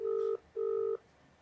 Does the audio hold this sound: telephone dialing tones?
yes